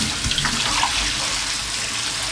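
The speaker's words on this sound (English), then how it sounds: "I'm just going to put the plug in my sink and run some cold water into it" Cold water runs from a kitchen tap into a plugged sink, a steady, fairly loud rushing splash that continues unbroken throughout.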